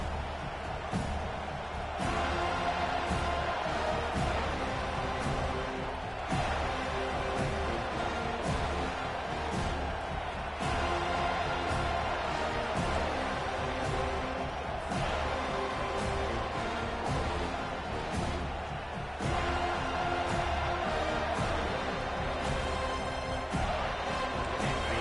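Dense, steady roar of a large crowd at a Tulane Green Wave college football game just after the opening kickoff, cheering loudly and continuously for the whole stretch with surging swells, under a faint announcer's voice.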